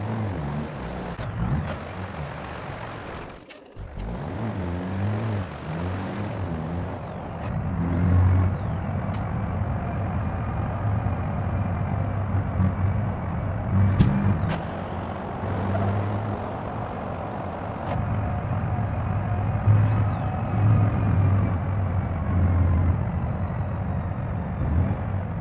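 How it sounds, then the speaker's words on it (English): A cement truck's engine drones steadily while it drives in BeamNG.Drive, a loud, continuous low rumble with shifting pitch and brief dips, no voices over it. "So my last truck of the day would be this cement truck."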